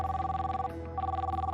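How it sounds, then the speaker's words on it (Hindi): A mobile phone rings in a steady electronic trill, two tone bursts separated by a short gap, moderately close but fairly quiet, with no one speaking over it. "लेकिन वहां रुकते ही उसके दूसरे फोन की घंटी बजी।"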